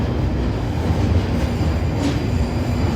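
A London Underground train runs steadily on the line, a loud continuous rumble with wheel and rail noise and a brief squeal, heard close from inside the carriage with no talk.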